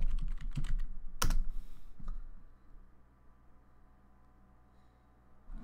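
Keys are tapped on a computer keyboard in a short burst of quick clicks with one sharper keystroke, then a last tap before quiet room tone.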